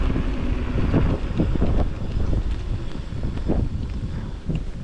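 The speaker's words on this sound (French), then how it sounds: "On a pas mal de vent." Steady wind buffets the microphone on a cool, breezy day while riding a Joyor S8-S electric scooter limited to 25 km/h, a continuous low rumble with gusty surges throughout.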